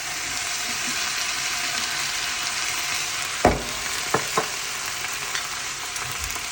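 Soy sauce poured into a hot pan while a sauce is built for crispy shredded venison, a steady sizzle with one sharp clatter partway through and a few lighter knocks after it, no talking.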